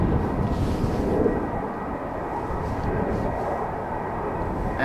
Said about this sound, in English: We have the silhouette of an A330 coming this way